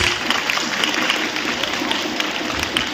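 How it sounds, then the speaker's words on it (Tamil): An audience applauds at a lamp-lighting opening of a Hello FM Ladies Day 2025 event, giving dense, steady clapping that fills the whole stretch, loud and close. "ஒரு பெரிய கைத்தட்டல் கொடுத்து ஆரம்பிக்கலாமா"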